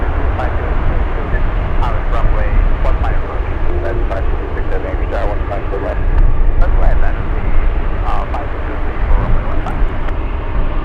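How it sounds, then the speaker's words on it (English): Delta flight 922, a Boeing 737-800 jet airliner, passes with a loud, steady engine roar throughout, while a voice talks over it and keeps talking the whole time. "Delta's 922 flying in from Seattle, Washington, a 3-hour flight for this one, a 737-800."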